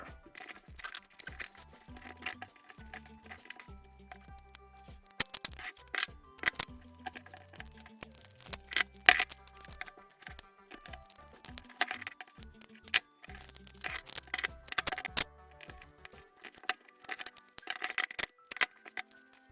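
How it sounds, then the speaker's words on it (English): A sheet of paper is folded into a small envelope at close range, with crisp crinkles, creases and papery snaps coming in irregular bursts throughout, no speech. "I guess I will fold a quick envelope"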